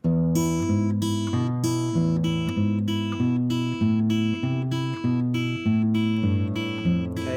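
Classical guitar fingerpicked notes ring out one after another at a slow, even pace, low bass notes alternating with higher ones, close and clear with no talking.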